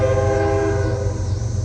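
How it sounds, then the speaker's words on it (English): A Canadian National northbound freight train passes with a loud, sustained horn blast, its steady harmonic tones over a deep rumbling engine nearby. "northbound Canadian National Freight"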